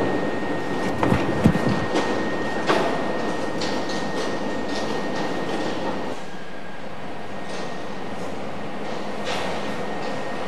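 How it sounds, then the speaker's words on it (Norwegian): A metro train rolls into an Oslo T-bane station mid-morning, a steady rumble of wheels and carriages with a few clatters and squeals, continuous and fairly close, easing slightly toward the end. "Et tog nettopp kjørt inn på en T-banestasjon."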